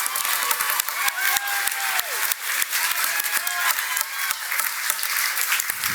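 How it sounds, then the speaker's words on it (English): Gala audience applause at a National MS Society fundraising dinner, sustained loud clapping from a large crowd with a few sharper claps standing out and music tones faintly beneath. "Round of applause to our honorees"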